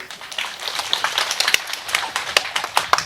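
Scattered hand claps from a small group, uneven and sparse, with a few sharper slaps standing out against a quiet room.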